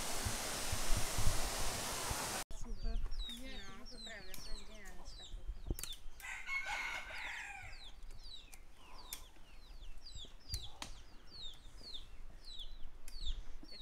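After a burst of rushing noise, free-range chickens cluck and chatter steadily nearby in the Azores, with sharp scattered calls and a wild rooster's cry among them.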